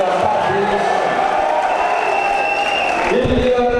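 Steady applause from a crowd of party militants at a political rally in Guinea, loud and continuous throughout, with some cheering mixed in.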